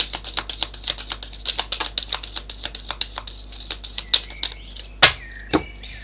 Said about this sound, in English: Kind of want another shuffle for you.